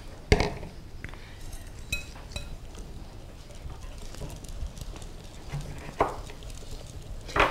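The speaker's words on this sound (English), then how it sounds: "And you're just going to whisk away." Eggs are beaten with a whisk in a glass bowl, giving irregular clinks and taps of metal on glass over a soft background scrape, close by with a few sharper knocks.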